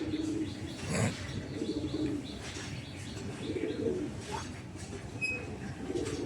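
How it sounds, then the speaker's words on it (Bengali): Soft, repeated cooing of domestic pigeons, with a few higher chirps and a brief flutter of wings, fairly close and continuous. "তো এই যে আমার অল্প কিছু পায়রা"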